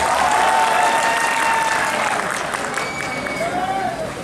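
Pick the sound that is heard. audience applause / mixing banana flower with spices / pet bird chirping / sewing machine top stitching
audience applause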